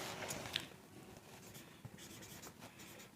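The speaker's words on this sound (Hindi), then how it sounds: "यहाँ लिखेंगे" Pen writing polynomial working by hand on paper, soft scratchy strokes and small taps continuing steadily at low volume over a quiet background.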